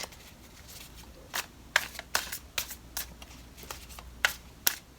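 Cards being shuffled with sharp riffling bursts and soft flicks at irregular intervals, close by and fairly quiet, no voices.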